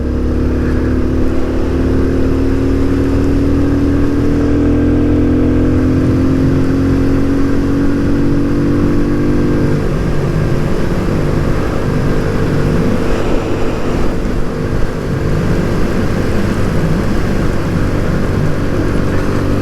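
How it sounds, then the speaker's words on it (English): A new 2024 Kawasaki Z125 motorcycle being ridden in the rain, its small engine holding a loud, steady drone with a rising rev in the first half, heard close up without talk. "I'm out here riding around on my brand new bike"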